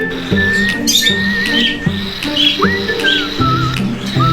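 A noisy pet bird calls repeatedly with bright whistling chirps and rising squeaks over a steady, rhythmic background, loud and close, with no talking.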